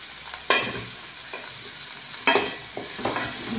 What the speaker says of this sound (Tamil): இந்த தக்காளி வெங்காயம் இந்த மசாலாலாம் நல்லா வதங்கிடுச்சு